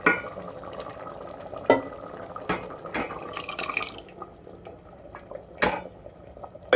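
A spoon clinks and scrapes inside a pot of wedding-style sambar with lentils and spice powder, giving a few sharp metallic knocks over a soft, wet bubbling and sloshing background.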